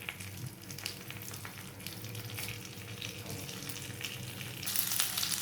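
Bay leaf and cumin seeds sizzling in melted butter in a pan, a steady close frying crackle that swells louder near the end.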